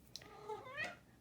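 House cat giving a soft, faint meow, a single short rising call in a quiet room while someone knits a cardigan, with no talk over it.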